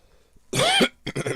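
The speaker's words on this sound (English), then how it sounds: "so be prepared for some coughing fits" A short coughing fit from someone with allergies: one harsh, loud cough followed after a brief pause by two or three quicker, choppier coughs, close to the microphone.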